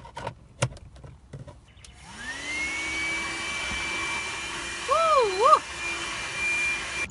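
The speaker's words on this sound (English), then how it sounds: "Here's a quick video of this vacuum cleaner in action." A few clicks and knocks, then a small THISWORX handheld car vacuum cleaner whirs up and runs steadily, its pitch briefly wavering as it works.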